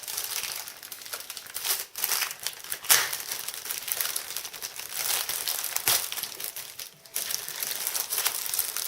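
Packing tape and plastic crinkle and crunch as a taped-down lid is pried up from a craft supply pack of paint brushes, a dense close rustling with brief pauses and sharp crackles.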